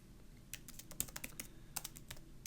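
Someone types on a computer keyboard in quick, uneven bursts of crisp key clicks, close and clear with no talking.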